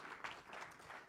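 Audience applauding at a Napoleon festival awards ceremony, a short burst of steady, moderately distant clapping with a few sharper claps standing out.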